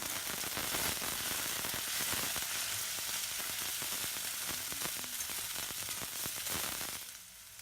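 Chopped onion sautéing in hot oil in a pan for a cauliflower stir-fry, a dense, steady sizzle heard up close, with occasional stirring scrapes and no talking, easing off near the end.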